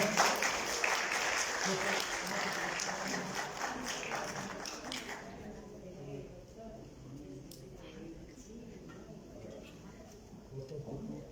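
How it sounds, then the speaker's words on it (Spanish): Audience applause at a forum, dense clapping for the first five seconds before thinning into scattered claps and room murmur, with voices underneath. "Aplausos para ella"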